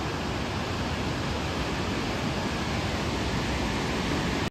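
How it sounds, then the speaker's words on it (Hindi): A mountain waterfall pours down from above beside a pilgrimage trail, sending out a loud, unbroken broadband rush that stays constant until a sudden cutoff at the very end. "वो ऊपर से झरना आ रहा है"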